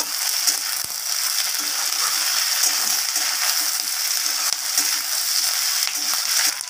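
Potatoes and beans fry with onion in a pan while being stirred, a steady close sizzle broken by repeated scraping and clattering of the spatula against the pan, with no talking.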